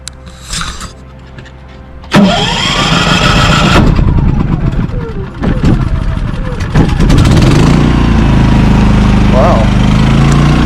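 A Champion 3400-watt dual fuel inverter generator is pull-started with the choke set, then settles into a steady, fairly quiet running drone that lasts to the end of the clip, with a person talking over it.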